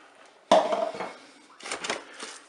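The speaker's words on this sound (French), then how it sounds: "verser mon bouillon, donc composé de 50 ml d'eau, 350 ml, pardon, je me trompe, 50 ml de vin blanc, 350 ml d'eau et un cube de bouillon de bœuf émietté" Beef broth made from water, white wine and a crumbled beef stock cube poured into a Cookeo multicooker pot: a sudden splashing pour with a metallic clatter, easing off, then a second burst of sloshing and clinking, close and fairly loud.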